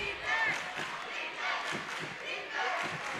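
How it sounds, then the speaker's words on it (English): A basketball game crowd in a gym called the Bear Den rises in a rolling, fairly distant roar with scattered shouts, while a few dull thuds like ball bounces sound underneath. "This crowd getting loud here in the Bear Den."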